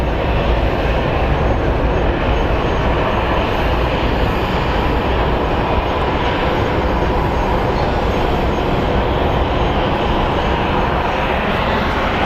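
An Alaska Airlines jet airliner at Phoenix Sky Harbor airport gives off a loud, steady engine roar that stays dense and unbroken, rumbling close for the whole stretch.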